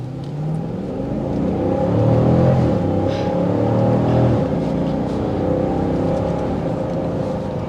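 A 2023 Dodge Durango R/T Blacktop accelerating hard in a performance test, its engine note building steadily and holding a loud, continuous rising drone with no talking.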